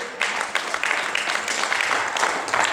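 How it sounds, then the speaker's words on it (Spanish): A church congregation breaks into applause during a sermon, a busy burst of many people clapping with uneven surges, fairly close and lively for a few seconds. "Denle un aplauso a Jesucristo."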